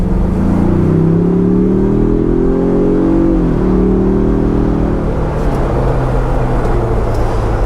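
Ford Bronco Big Bend with its 2.3-liter engine cruising on a country road, a loud steady engine drone with induction noise rising and settling as it accelerates, over constant road and wind rumble.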